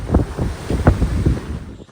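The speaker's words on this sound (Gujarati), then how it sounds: "બસ હવા આવે છે બીચ બસ બધું આવી જાય" Sea breeze buffets the microphone on a beach during island hopping off Langkawi, gusty rumbling wind in uneven bursts with surf-like wash underneath, no talking.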